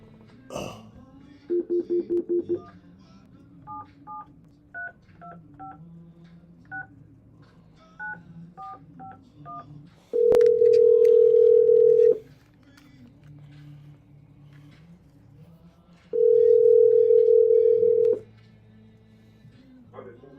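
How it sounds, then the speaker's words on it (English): A telephone keypad beeps out a quick string of dialing tones, then two long steady tones sound a few seconds apart, each lasting about two seconds, loud and clean against a quiet background. "Calling this phone here."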